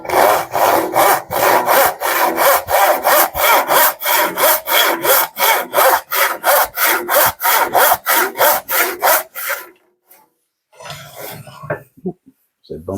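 A hand saw cuts through a piece of wood clamped in a vise, giving loud, regular back-and-forth strokes for about ten seconds, then stopping, followed by a few quieter scrapes and handling sounds.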